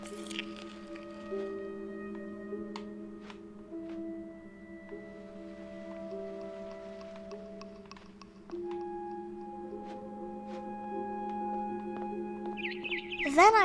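Birds in the video game What Remains of Edith Finch chirp outside a window: a brief burst of rising, whistled chirps arrives at the end, over a steady bed of sustained game music tones.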